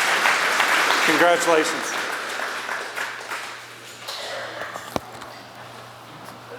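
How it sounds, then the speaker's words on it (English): An audience at a high school sports Hall of Fame induction ceremony applauds an inductee in a broad, wash-like crowd clap that slowly fades. A voice speaks briefly over it and a single sharp knock sounds near the end. "One more round of applause for Rich Wilson"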